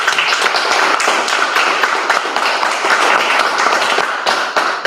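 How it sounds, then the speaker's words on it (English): An audience at a police and FBI recruiting panel applauds the panelists, a dense, steady wash of many hands clapping at once, loud and sustained for several seconds with no talking over it. "let's give our panelists a round of applause"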